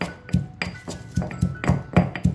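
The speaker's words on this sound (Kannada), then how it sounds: "ಇವೆರಡನ್ನು ಚೆನ್ನಾಗಿ ಕುಟ್ಕೋಬೇಕು ನಾವು ಈ ಥರ ನೀಟಾಗಿ ಕುಟ್ಕೋಬೇಕು" Fried ingredients for cauliflower chutney being pounded, a steady run of about nine sharp, clinking strikes in an even rhythm, close and fairly loud with no voices.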